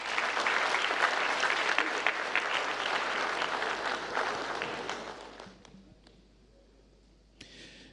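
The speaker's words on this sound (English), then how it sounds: "Please, now join me to give them a round of applause." An audience claps loudly and steadily at an election event, with dense applause sustained for about five seconds before thinning into scattered claps and fading, then one last brief burst.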